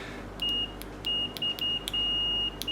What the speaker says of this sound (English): you've got a nice latching buzzer on there